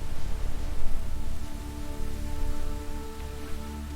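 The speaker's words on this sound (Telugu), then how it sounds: "ఒకరోజు భారీ వర్షం పడింది." Heavy rain falls steadily in an animated story, a dense continuous hiss of drops striking a surface that swells and eases slightly, with no voices over it.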